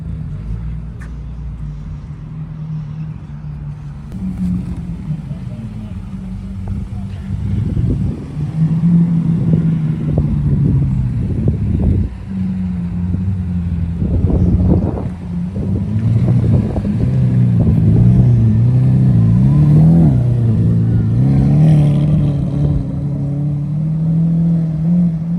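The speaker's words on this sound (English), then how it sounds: "the unmistakable sound of a V12 Lambo" A deep, powerful Lamborghini V12 engine idles and rumbles, then revs repeatedly in sharp bursts, its roar swelling and falling over a steady low growl, at a drift arena in Coventry.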